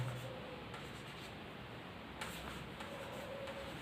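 Pen scratching across paper while someone works through a unit-digit arithmetic problem: a soft, steady, close-up scribble with a couple of faint taps, no voice.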